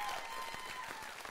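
A television studio audience applauds, with dense, sustained clapping that holds steady for the brief moment.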